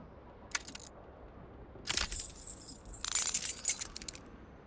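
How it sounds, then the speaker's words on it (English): Keys on an aluminium keyring clinking in a trouser pocket, from the video game Disco Elysium: a short jingle, then a louder, longer rattle of metallic chinks over a faint background hum. "You hear a jingle. Keys are clinking in the pocket of your flare-cut pants."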